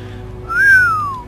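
A single short whistle blown straight into a close microphone rises and then slowly falls in pitch, lasting about a second against quiet background noise.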